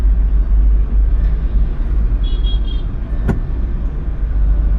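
Steady low engine rumble of a car on the move at a closed railway level crossing, close and continuous, with a brief faint beep and a sharp click partway through.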